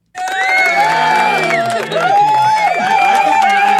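A cheering crowd sound effect plays from a soundboard, a loud burst of whoops and shouts that starts abruptly and runs on continuously, with voices mixed in.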